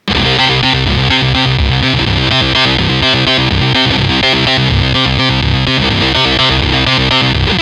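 A loud, dense synthesizer pattern loops the same short phrase over and over with no change, its distorted, buzzy tones pulsing in a steady rhythm.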